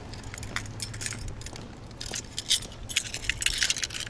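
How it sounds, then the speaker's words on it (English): Keys jangle and clink in bursts of metallic rattling, close and moderately loud, with a soft low hum underneath. "Just dropped off the keys."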